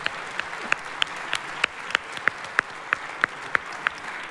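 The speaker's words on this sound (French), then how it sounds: "vous pouvez les applaudir très fort." A studio audience at a French debate contest applauds, with sharp, fairly evenly spaced claps rising above a steady crowd wash for several seconds; no one speaks over it.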